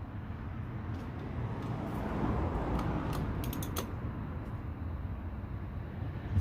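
A seized Audi A8 4.0 TDI engine, glow plugs removed, is turned over by hand, giving low grinding creaks and ratcheting mechanical clicks over a steady rumble, with a few sharp metallic ticks.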